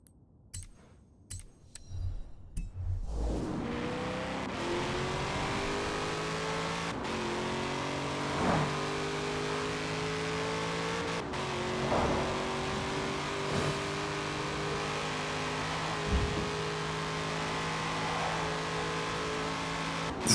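A steady, sustained engine drone from a car taking fast corners in the Forza Horizon 4 racing game, with rising and falling pitch as it shifts through gears, loud and continuous after a brief quieter start.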